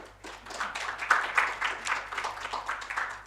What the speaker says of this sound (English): So a final hand of applause to all our panelists.